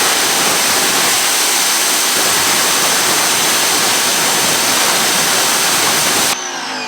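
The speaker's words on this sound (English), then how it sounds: "So before I hit the side of this, I want to rinse this off again." A gas or electric pressure washer rinses dirt off a truck's tailgate, a loud continuous spraying roar and hiss that cuts to a quieter spray near the end.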